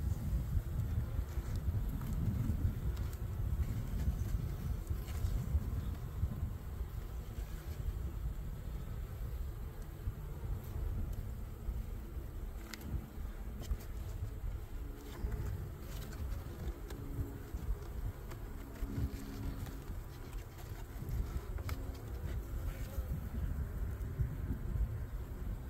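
Continuous low buzzing of honey bees from an open hive with hatching brood, steady and fairly close, with a soft rustle of wind and faint background noise throughout.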